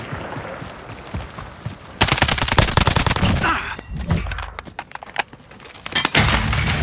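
Video game gunfire in an online shooter match: dense bursts of rapid shots and sharp cracks, quieter at first, then loud, sustained automatic fire close up with brief lulls.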